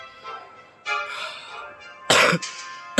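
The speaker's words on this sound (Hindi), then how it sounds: "थोड़ी खांसी आ रही" Several harsh coughs come in short bursts, close by, separated by brief pauses and throat rasps.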